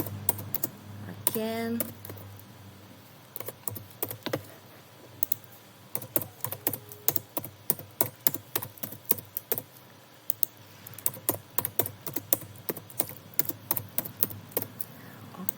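Keyboard typing while filling in a form in a web form builder, heard as irregular clusters of close, crisp keystrokes and clicks across the whole stretch, with a brief spoken word early on.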